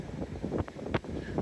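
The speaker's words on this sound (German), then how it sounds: "Wie gesagt, es ist ziemlich windig." Low, rumbling gusts of wind buffeting a phone's built-in microphone in Gran Canaria, with uneven thumps and a constant blustery roar.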